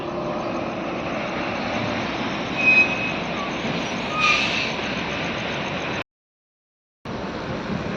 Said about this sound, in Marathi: आपण पाहू शकताय पाठीमागेपर्यंत ट्रॅफिक कशा प्रकारे आहे